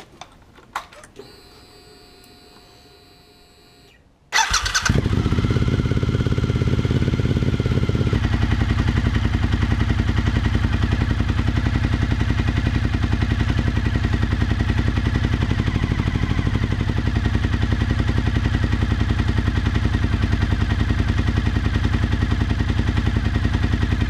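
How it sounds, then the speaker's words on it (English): A Suzuki SV1000S motorcycle engine at idle, warmed up for an idle-speed screw adjustment: after a few quiet seconds of faint clicks the engine catches and holds a loud, close, steady rumble to the end. "You want to get the bike warmed up, and then you adjust this screw here to change the idle speed to set it to around 1200 RPM"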